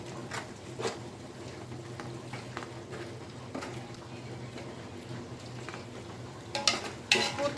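Ground masala spices for Hyderabadi biryani frying in a pan, a steady soft sizzle with scraping stir strokes and occasional utensil clinks, close and fairly quiet, with a louder clatter near the end.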